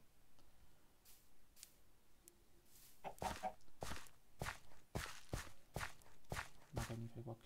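A Minecraft chicken clucks in short scattered bursts over a quiet farm scene, mixed with light tapping footsteps and clicks, fairly faint and close, with no speech over it.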